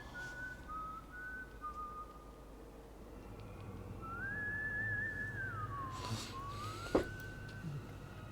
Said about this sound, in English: I don't hear the whistling anymore.